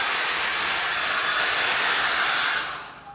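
A hair dryer blows loudly and steadily up close, drying a painted canvas, then shuts off and winds down over the final half second.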